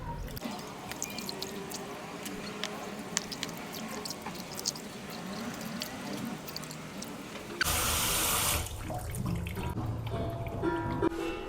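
Tap water runs and splashes while a stone mortar and pestle is rinsed and scrubbed, a steady wash with drips and clinks, then a louder burst of gushing flow near the end; a voice talks over parts of it.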